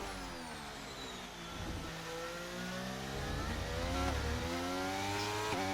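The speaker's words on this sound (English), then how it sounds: "An engine that is not going flat out" A race car engine in a racing game at the Circuit of the Americas drones along below full throttle, its steady harmonic tone rising and shifting gradually, faint and held back rather than screaming flat out.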